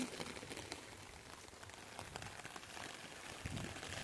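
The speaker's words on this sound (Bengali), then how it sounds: "অনেক বৃষ্টি হচ্ছে।" Heavy rain pours onto an empty street in a steady, dense hiss, faint and even with no break, with no voices over it.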